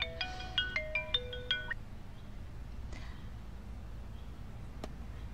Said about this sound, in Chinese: 你让沈小姐接电话